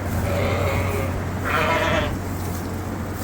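Ewes bleat on a sheep farm, two clear calls in a row close by over a steady low background hum.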